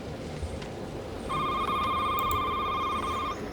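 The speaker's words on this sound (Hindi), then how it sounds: "फ़ोन आ रहा है, अभी तो फ़ोन चेक करते हैं।" A telephone rings in the horror video game Shift at Midnight, a steady electronic ringing tone that starts after a quiet stretch and holds loud and continuous for about two seconds over low ambient noise.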